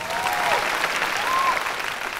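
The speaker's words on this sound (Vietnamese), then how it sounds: "Mời bà con chúng ta dành một tràng pháo tay" Studio audience at a Vietnamese farming-themed TV game show breaks into loud, steady applause that fills the whole clip, with a few high whistles cutting through near the start and middle.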